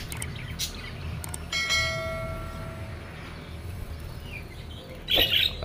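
Budgerigars chirp around bamboo nest boxes kept for breeding, with scattered high twitters and short calls over a steady background hum, moderately close, with a louder burst of chatter near the end.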